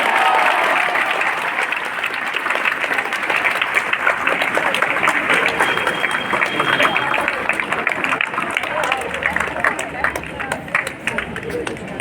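Sustained audience applause at a school student council election result announcement, dense steady clapping filling the room for the whole stretch with crowd murmur mixed in.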